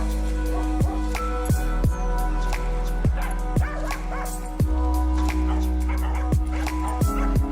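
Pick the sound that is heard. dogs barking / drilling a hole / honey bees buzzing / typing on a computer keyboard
dogs barking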